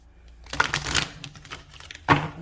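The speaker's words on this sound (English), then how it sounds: "I'm just going to shuffle the deck." A deck of oracle cards is shuffled, giving two brief riffling bursts, close and fairly quiet.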